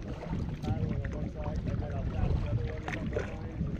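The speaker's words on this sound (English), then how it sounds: "I'm paddling a bit to one side." A canoe paddled on a lake in Algonquin Park, soft water swishes and paddle strokes close by under wind rumble, with muffled low voices in the background.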